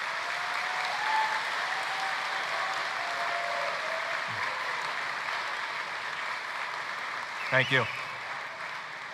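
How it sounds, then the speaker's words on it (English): Applause from a crowd at the Conestoga Valley High School Class of 2025 graduation ceremony, a steady, full wash of clapping that runs throughout, with a brief spoken thanks near the end. "Please take a moment to give all of these individuals a round of applause."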